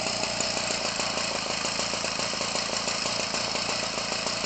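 A Homelite Textron 25cc engine used as an RC engine runs steadily at a buzzing, even pitch, close and unbroken, with no voices.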